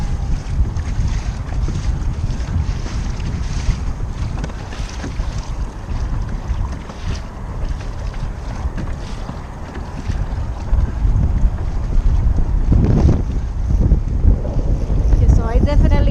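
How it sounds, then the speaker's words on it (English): Strong wind buffeting the microphone on a fishing boat while sight casting for redfish, constant loud rumbling gusts that swell and ease, with water sloshing and a person talking through it. "Sorry about the wind."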